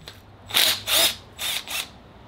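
An impact wrench fitted with impact-rated sockets works on an engine while a frozen piston is being removed: four short, buzzing hammering bursts in two pairs, close and fairly loud, with no speech.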